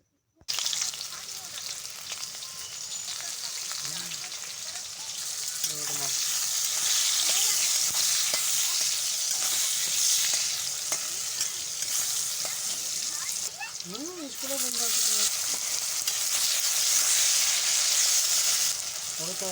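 Steady, loud sizzling of bata fish frying in a pan, continuous throughout, with occasional faint voices and clinks beneath the hiss.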